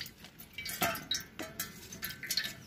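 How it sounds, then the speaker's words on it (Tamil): Water poured over grapes to wash them in a kitchen, with light splashing, drips and a few soft clinks of a dish, close and fairly quiet. "இந்த திராட்சை மேலே சும்மா நார்மலாக தண்ணி விட்டு கழுவிட்டு"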